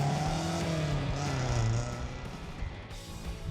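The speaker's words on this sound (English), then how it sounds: "take the 60-year-old Herald up and down the street and let her run wild" A 1960 Triumph Herald runs under its own power nearby, its engine a loud, steady low drone that rises and falls slightly as it revs, with no voices over it.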